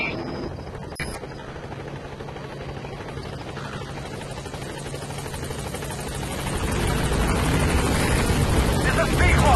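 Rotor thump of the B-Quad support helicopter in Metal Gear Solid V arriving at a landing zone, a steady broadband whir that grows louder toward the end, with a radio voice speaking over it.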